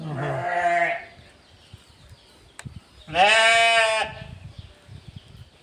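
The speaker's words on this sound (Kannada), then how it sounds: "ಆ ಕುರಿ ಅಳಿಸ್ತಾ ಇದೆಯಲ್ಲ" A ewe bleats twice on a farm, two loud, drawn-out calls about a second each separated by a short pause, with faint rustling and shuffling in between.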